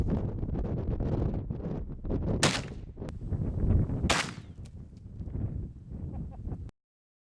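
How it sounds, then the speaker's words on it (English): Two sharp, loud gunshots from a CVA Wolf black powder rifle crack out a couple of seconds apart outdoors, with wind buffeting the microphone and rustling between the blasts. "We're going to be shooting the black powder"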